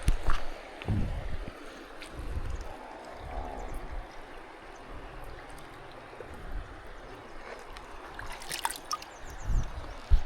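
Steady rushing of a strong river current beside a bamboo campsite fills the whole stretch, a broad continuous wash with occasional splashes and knocks, no voices.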